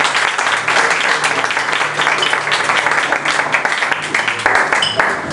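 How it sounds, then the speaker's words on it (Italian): Dense, loud applause fills the clip, a steady roar of many hands clapping with no pauses. "vorrei anche un grande applauso a loro e a me"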